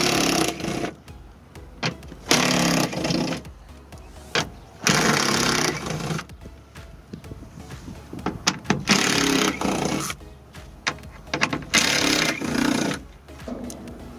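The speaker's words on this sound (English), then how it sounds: "Now we can go ahead, 10mm socket, and start removing a few bolts." A ratchet with a 10mm socket loosening bolts on the rear door of a Mazda CX-7, heard as bursts of rapid clicking ratcheting separated by pauses, close and fairly loud.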